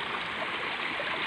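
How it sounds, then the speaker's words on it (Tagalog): River water flowing in a stream at Mataas na Lupa, Indang, Cavite, a steady close rush and gurgle with no break, heard alone. "Ayan yung agos ng mga tubig."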